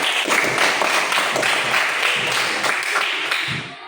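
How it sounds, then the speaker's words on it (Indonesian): Students in a classroom applaud together, a dense burst of steady clapping from many hands that holds for several seconds before tapering off slightly. "berikan tepuk tangan dulu buat Seno."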